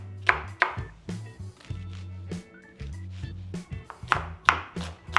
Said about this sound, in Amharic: ሽንኩርት ገጠመን ዛሬ በዚህ መልክ ከትፈዋለሁ።